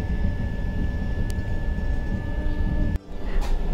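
Steady broadband rumble of a moving train heard from inside a first-class AC coach, with a constant tonal hum and a brief sharp dropout near the end, no voices.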